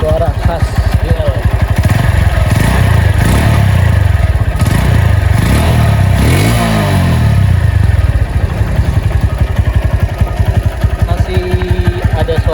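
Honda Megapro motorcycle with a GL engine, a limited edition, idles with a steady close mechanical chatter and throbs up through a few revs before settling back, with voices talking over it.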